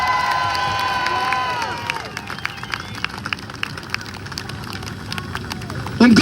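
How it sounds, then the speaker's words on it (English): A Melbourne street rally crowd cheers loudly at first, the shouting fading into scattered claps and whoops that stay moderately close, then a burst of noise at the end. "Mr. Wade Northhausen, give me a big clap,"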